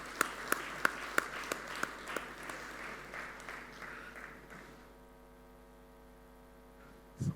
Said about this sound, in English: a very, very big round of applause, for my directors, who have been supporting